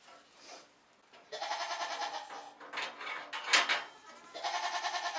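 A pregnant black goat doe on a farm bleats repeatedly, several loud wavering calls in separate bursts, close by and with no talking over them.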